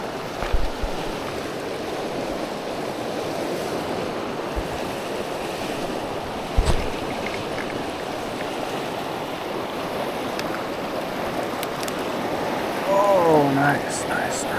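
The Payette River in Idaho rushes steadily in a continuous broadband wash of flowing water, with gusts of wind buffeting the microphone and a few brief knocks and a faint voice-like sound near the end.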